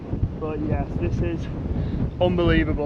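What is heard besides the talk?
wind blowing on a hilltop, wind noise on microphone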